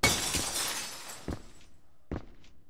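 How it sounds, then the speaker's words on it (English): In the PS2 horror game Echo Night: Beyond, something smashes with a loud glassy shatter and a trailing hiss, followed by two sharper breaking knocks. "What was that? Something smashed."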